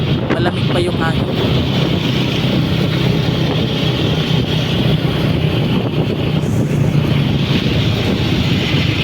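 Wind roaring steadily across an open road during the 2023 Tour of Matabungkay bike race, stage 2, under an overcast sky, a constant broadband rush buffeting the microphone from start to finish.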